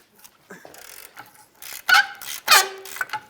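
A hand ratchet works loose a tight 19mm bolt on the front of a lower control arm on a 2003-2007 Nissan Murano, giving a few loud, strained creaks and metallic clicks in separate bursts, close by.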